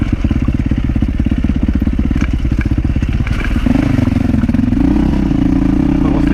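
A motorcycle rides up a mountain road on the Grand Mesa with a loud, steady, throbbing engine drone close to the mic and constant wind buffeting, the pitch shifting midway as the rider changes gear.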